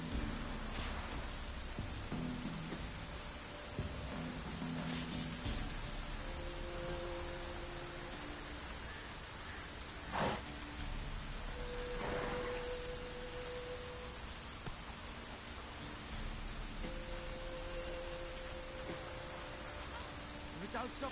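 Constant downpour in The Witcher, dense rain-on-surface hiss throughout with a couple of brief sharper cracks and low rumbles like distant thunder, beneath soft sustained musical tones.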